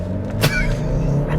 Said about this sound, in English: Foot on the brake and accelerator, build the RPMs.